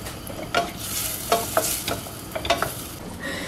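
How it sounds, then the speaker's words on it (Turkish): Butter and a little olive oil sizzle softly in a pan while a utensil scrapes and stirs with irregular clinks, close by and without talking. "Çok az zeytinyağı ilave edeceğim. Tereyağım vardı, onu ilave ediyorum."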